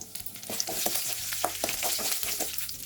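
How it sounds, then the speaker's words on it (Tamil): Mustard seeds, chana dal and peanuts spluttering in hot oil, a close, steady sizzle broken by quick irregular pops and crackles. "இப்போ கடுகுலாம் பொரியட்டும். கடலைப்பருப்பு நிலக்கடலை எல்லாமே பொரிஞ்சு வரட்டும்."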